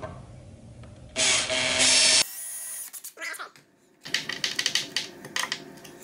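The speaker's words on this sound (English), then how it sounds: "we can pre-drill our hole to where it needs to be" A power drill whirs briefly at high pitch drilling a pilot hole in wood for a lid stay hinge, then spins down, followed by clattering and rattling handling noises close by.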